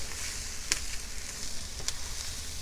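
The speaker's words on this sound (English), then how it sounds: "you can take and add your smoked sausage" Smoked sausage sizzles steadily in a pot while Louisiana Creole jambalaya cooks, a continuous frying hiss with a couple of brief sharper pops, fairly loud and alone.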